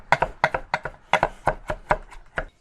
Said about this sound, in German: Dafür hacke ich erstmal die Petersilie klein.